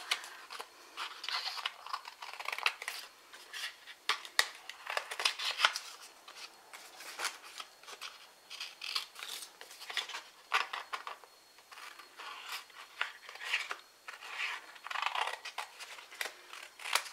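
Scissors snipping through paper pieces for table favours, a long run of close, crisp cuts and rustles in uneven bursts, with no voice.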